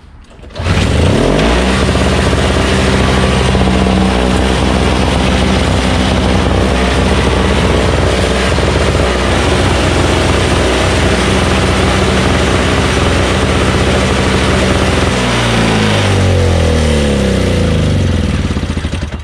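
A Craftsman 5HP Tecumseh single-stage snowblower engine starts after a carburetor repair and runs at a loud, steady idle close by, with a sharp start and a brief change in pitch near the end.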